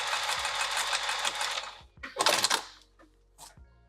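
A home sewing machine stitches back and forth on fabric, one long rapid whirring run followed by shorter bursts and a final quick spurt, each with a sharp mechanical clatter, loud and close.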